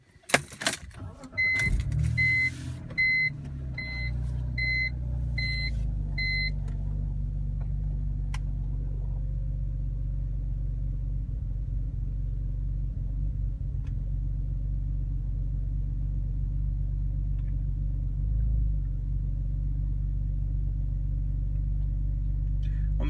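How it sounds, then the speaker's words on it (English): A BMW E46 car engine cranks and catches, then settles into a steady, deep idle rumble that continues evenly for about twenty seconds, with some faint clicks and key jingles near the start. "I'm going to go ahead and start the car up"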